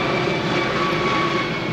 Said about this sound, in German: Ein Hubschrauber.